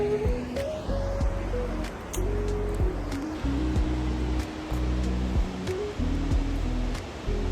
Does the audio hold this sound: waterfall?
yes